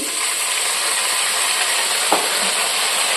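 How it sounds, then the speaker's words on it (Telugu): Cauliflower fried rice sizzles hard in a hot pan as soy sauce goes in, a loud, dense, unbroken hiss with one brief clink partway through and no talking. "ఇప్పుడు ఇందులో వచ్చేసి సోయా సాస్ వేసుకోవాలి"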